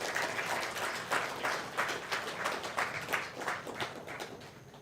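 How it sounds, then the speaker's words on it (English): Steady audience applause at an AI leaders summit, dense overlapping clapping for the whole team, sustained at an even level with no talk over it. "let's be generous enough in extending our applause for the entire team here."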